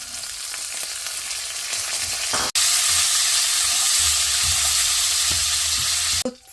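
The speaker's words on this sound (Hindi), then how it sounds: "तो फ्यू सेकंड के लिए फ्राई करना होता है" Almonds, cashews and raisins fry in a pan, giving a steady close sizzle and hiss with light stirring scrapes, a sharp knock partway through and a brief clatter at the end.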